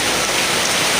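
Steady, heavy rain pours down on an afternoon at a fish pond, a dense, even hiss with no pauses and no voices.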